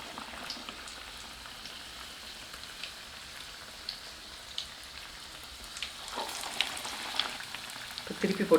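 Battered plantain slices bubble and fry in hot oil for bajji, a soft, continuous crackling close by that grows a little busier toward the end, with a few light clinks.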